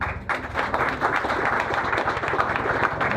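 A crowd applauds the volunteers who stamped cards at a charity run event, dense continuous clapping from many hands heard nearby for the whole stretch.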